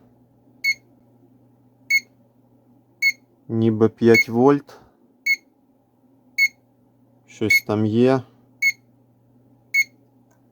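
Short electronic beeps from a kettle's buzzer, partly taped over to muffle it, sound at a steady interval of about one per second, clear and close, while someone speaks briefly twice in between.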